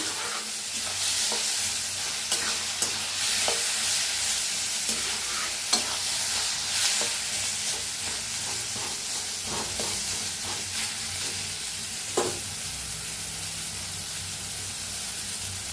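Eggplant bharit mixture roasts in a pan with a steady, loud sizzle and hiss, broken by repeated scraping stirs of a utensil throughout.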